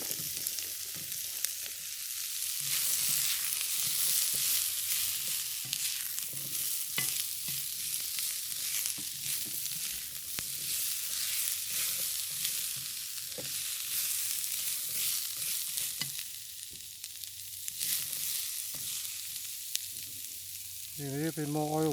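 Onions brown in oil in a pan for a shrimp curry stir fry, sizzling steadily throughout while a spatula stirs and scrapes in irregular bursts.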